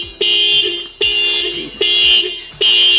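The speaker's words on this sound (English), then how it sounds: "I think I might have bumped the panic button on the remote." A Toyota Fortuner's car alarm set off by its panic button blares loud and close in four evenly spaced, harsh electronic honks.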